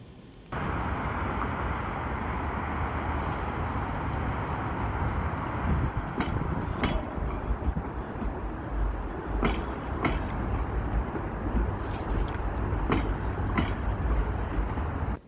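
Inside a moving streetcar in Canada, a steady loud rumble of wheels and motor carries on throughout, broken by a few sharp clanks and rattles, with no talking.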